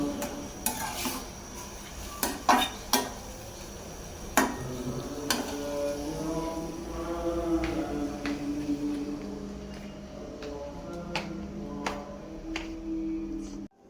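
Curries being reheated in a pot on a home stove, with metal spoon clinks and scrapes against the pot, a few sharp taps and a soft sizzle underneath, close and fairly quiet, no talking.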